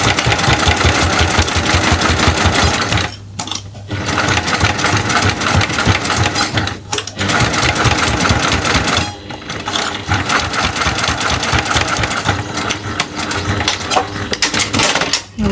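A sewing machine runs a straight stitch with backstitches at both ends while sewing a square fabric pouch. It gives close, loud, fast rhythmic clatter in long bursts separated by a few short pauses.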